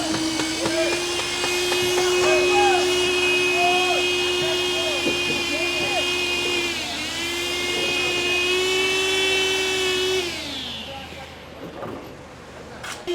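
A concrete poker vibrator, pushed 2.5 meters down into a freshly poured concrete column on a building site, gives a loud, steady high whine that lasts for about ten seconds before winding down, with knocks and workers talking around it.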